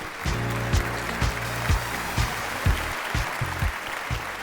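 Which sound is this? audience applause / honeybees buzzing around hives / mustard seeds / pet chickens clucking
audience applause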